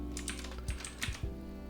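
Keys tapped on a computer keyboard while entering a search in VS Code settings: a few quick clicks in a short burst over a steady low hum, no speech.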